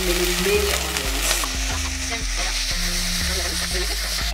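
Onions frying in a pan with goat mutton make a loud, close, continuous sizzle with stirring, and a repeated low hum runs underneath.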